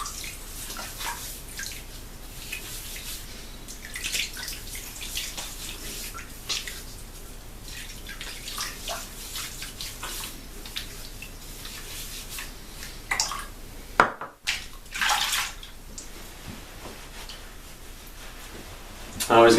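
Water splashing and trickling as a man wets his head with running water before shaving, steady wet spatter with drips and a brief pause midway, close by.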